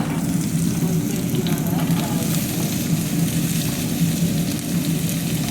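Chopped vegetables, including carrot, fry in a pan for ridge gourd chutney, giving a steady, even sizzle with a low crackle, close by and unbroken throughout.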